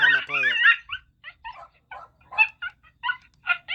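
Recorded coyote calls play back: a couple of high wavering yips, then a run of short, scattered chattering chirps, fairly close and clear with no talk over them.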